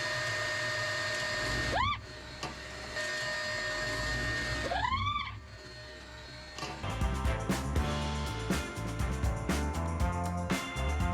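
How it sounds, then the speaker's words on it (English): Steady blowing roar of a heater fan and shop vacuum running together inside a 1994 Stewart & Stevenson M1078 army truck cab, loud and continuous, with a few rising whine sweeps and clattering knocks toward the end. "I turn the heater on while using the vacuum to try to suck anything that comes flying out."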